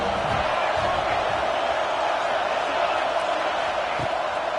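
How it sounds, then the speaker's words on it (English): Stadium crowd at a Buckeye game in College Football 26 roars continuously at a steady, dense level, a broad wash of cheering with no clear peaks. "The Buckeye crowd alive on third down."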